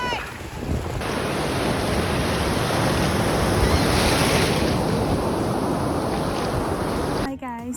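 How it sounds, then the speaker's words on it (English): Surf breaking on a summer beach during a family day out, with gusty wind buffeting the microphone, a steady loud wash of waves throughout before a brief cut at the end. "What a lovely beach!"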